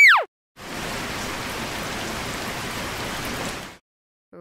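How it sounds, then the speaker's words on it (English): Steady rain hisses evenly for a few seconds, a soft, uniform patter with no other sounds. "Rain."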